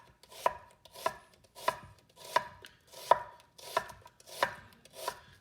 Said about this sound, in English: knife against the knuckle, and then just a nice quick slice